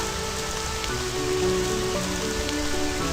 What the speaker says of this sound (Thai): ฝนตกหนักขึ้นอีกแล้วอะ่ะ